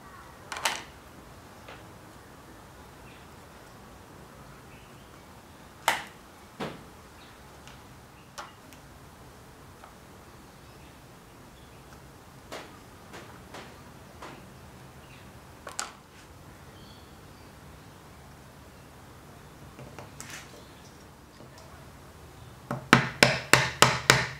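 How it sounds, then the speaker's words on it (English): Small wooden kumiko pieces are pressed into an asa-no-ha lattice pattern, giving scattered light wooden ticks and taps over a quiet background, then a quick run of sharper knocks at the very end. "Continue until all the pieces have been inserted and the pattern is completed."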